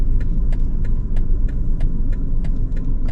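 A car rolls along with the clutch down during a driving test, giving a steady low engine and road rumble with faint ticking over it and no voices.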